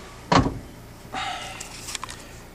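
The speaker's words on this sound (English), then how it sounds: "I close the door." A car door shuts with one sharp, loud thump near the start, followed by softer rattling and mechanical sounds while an engine idles low in the background.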